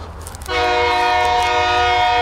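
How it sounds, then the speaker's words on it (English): A train horn blares suddenly and holds a loud, sustained chord close by, over the low rumble of the passing train. "Got a train."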